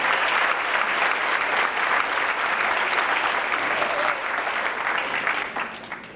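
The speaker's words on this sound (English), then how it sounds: "let's give Maggie a nice round of applause" Audience applause at a middle school banquet: sustained, even clapping from a roomful of people that holds steady for several seconds before tapering off near the end.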